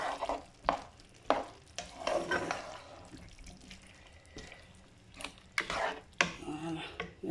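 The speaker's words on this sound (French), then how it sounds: "je vais laisser mijoter tranquillement" Rabbit in cream sauce is stirred and mashed in a pan over low heat. Irregular spoon clinks and scrapes sound close up over a faint wet bubbling and sizzle.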